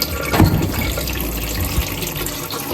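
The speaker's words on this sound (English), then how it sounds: "So the first thing you need to do here is just wash the inner pot. Just soapy water." Washing an Instant Pot inner pot in soapy water: a steady, moderately loud wash of running and sloshing water with a few clatters near the start.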